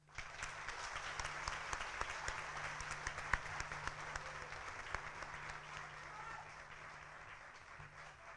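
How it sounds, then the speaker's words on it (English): Sustained applause from an audience at a high school honors program ceremony, greeting newly inducted members; steady dense clapping fills the whole stretch at a moderate distance, with a low hum running underneath. "Please give our newest members a round of applause."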